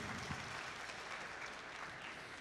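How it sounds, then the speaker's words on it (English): A large crowd of students, mentors and coaches at a FIRST Robotics Competition district opening ceremony claps steadily, a soft, distant-sounding wash of many hands that stays even and fairly quiet for the whole stretch. "Give them a huge round of applause."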